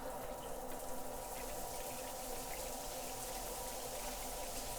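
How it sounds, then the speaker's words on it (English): Water runs steadily from a shower head in a modern luxury villa bathroom with a quartz-lined shower and slit drain, making a continuous broadband hiss at an even level with no talk over it. "check out this shower head. When you turn it on,"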